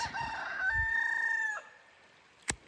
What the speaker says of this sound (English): Noisy roosters.